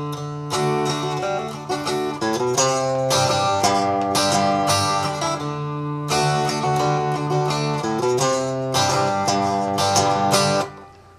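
Electric guitar playing a riff loosely and freely, sustained chords and single-note lines ringing continuously and fairly loud with short pauses between phrases, no talking.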